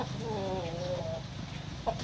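Chickens cluck in a farmyard during a sudden heavy downpour, with a few short calls over steady loud rain noise and one brief sharp cluck near the end.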